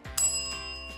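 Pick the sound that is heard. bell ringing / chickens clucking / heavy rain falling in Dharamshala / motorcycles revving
bell ringing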